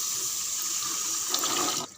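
Tap water runs steadily into a kitchen sink while rice is washed, a continuous close splashing rush with a brief louder splash near the end before it stops.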